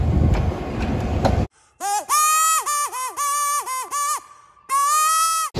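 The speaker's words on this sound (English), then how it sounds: "is a train." A train on the Mornington railway tracks sounds its horn in loud, close, multi-tone blasts. Several short blasts in quick succession follow a burst of rumbling, then after a pause comes one longer blast.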